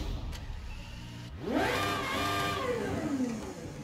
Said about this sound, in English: This insanely high revving V12, it sounds very similar to real life.